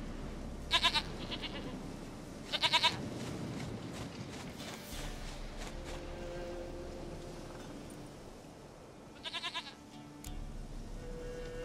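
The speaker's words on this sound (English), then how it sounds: "Goat of mine, dearest, sweetest goat." A goat bleats in The Witcher 3, three short bursts of quavering bleats spread across the scene over steady game ambience.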